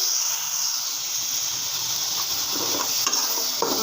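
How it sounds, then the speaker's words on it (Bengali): Spices sizzle in a pan with pieces of already fried fish, a continuous hiss of frying with occasional stirring scrapes growing busier toward the end. "মশলাটা দিয়ে আমি ভালো করে কষিয়ে নেব"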